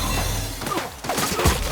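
Gunfire in The Outer Worlds, a dense burst of overlapping shots and impacts blended with game noise, loud and close, running continuously for under two seconds.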